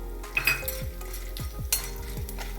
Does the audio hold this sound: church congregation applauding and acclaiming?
no